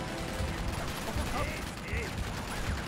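Turret gunfire in Uncharted 2, a dense continuous rattle of rapid shots filling the scene, loud and close, with voices talking over it.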